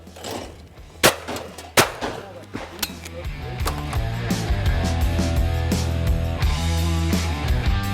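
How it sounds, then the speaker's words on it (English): Several sharp shotgun reports at clay targets on an outdoor shooting ground, spaced cracks early on then fainter distant shots, under music or background sound that builds and continues throughout. "You shoot them with your eyes closed, Sam."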